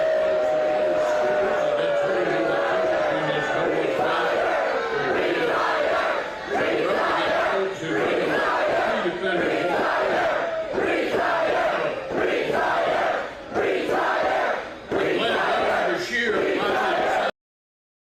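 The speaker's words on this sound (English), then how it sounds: "that's a massive crowd chanting" A massive crowd chants and heckles Mitch McConnell, a loud, dense wall of many voices rising and falling in rhythmic bursts that fill the whole stretch without a break.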